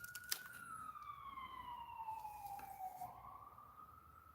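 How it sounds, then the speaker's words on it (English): A distant ambulance siren wails with a slowly falling pitch as it passes along a major street, fading away against quiet background noise. "I hear the ambulance drive by"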